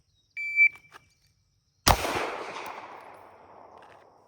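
A single sharp, loud handgun shot cracks out after a short electronic beep from a shot timer, following a cold draw from a holster, with the report ringing and decaying over the next two seconds; no voices.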